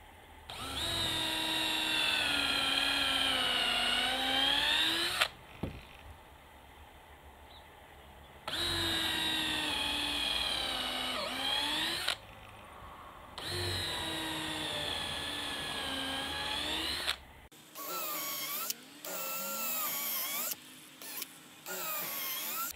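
A Makita CXT 12V drill, the 10.8V DF333D, spins a long drill bit in three sustained high-pitched whining bursts with brief pauses between, followed by shorter stop-start pulses near the end.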